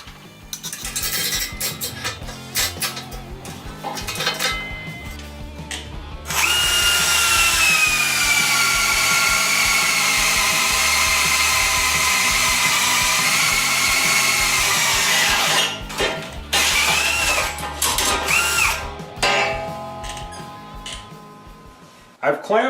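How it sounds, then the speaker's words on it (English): A power drill grinds steadily into a 3/4-inch steel plate clamped in a vise for about ten seconds, a loud continuous whine with a rising squeal, surrounded by clatter and handling noises. "we'll drill a hole right next to it using the same bit"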